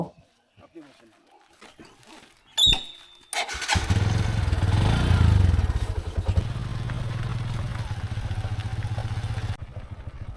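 A motorcycle carrying two riders toward Bhutan Ghat in North Bengal starts up after a sharp clatter, then idles and revs loudly nearby for several seconds before cutting off, with faint voices early on.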